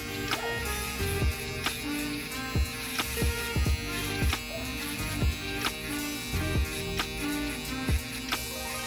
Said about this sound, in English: Use the shaver, continue using the border of the machine.